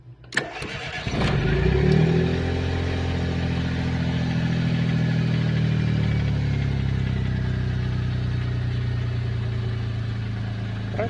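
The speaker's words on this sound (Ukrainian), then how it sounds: "О, зашумів паливний насос." A Smart 450 car that has been refusing to start: sharp clicks, then a steady engine-like hum builds and holds loudly and close for several seconds with a faint high whine above it, no talking.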